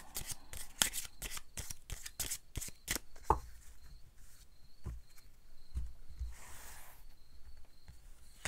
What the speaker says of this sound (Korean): 조언 카드 좀 더 뽑아볼게요